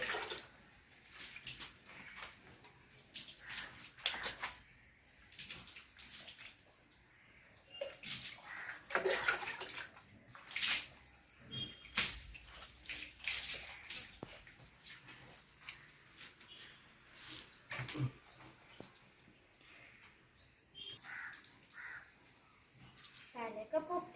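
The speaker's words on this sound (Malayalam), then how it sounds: "ഒഴിക്കാൻ വേണ്ടിട്ട് വെള്ളം" Water splashes and pours in uneven bursts while a Labrador puppy is bathed, fairly faint, with someone talking over it throughout and a bird cawing in the distance.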